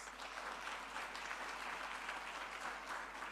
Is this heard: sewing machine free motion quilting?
no